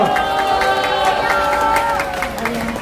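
A crowd at an outdoor Saturday citizens' rally welcomes the arriving host with steady clapping and scattered cheers, while a voice carries over the noise.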